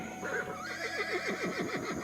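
A horse gives a loud, close whinny, a rising and falling neigh that shakes into a series of quick wavering pulses before fading, with no talking over it.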